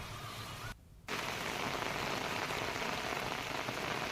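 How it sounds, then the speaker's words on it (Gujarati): Heavy, steady downpour in Gir Gadhada, a dense continuous hiss of rain on surfaces that drops out for a moment early on, then returns at full strength with no voices. "તો હાલ પણ ધોધમાર વરસાદ ચાલુ છે."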